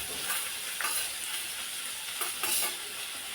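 Chopped onion added to green chillies frying in a pan for a mild paneer bhurji gives a soft, steady sizzle with faint stirring scrapes, fairly quiet and with no talking.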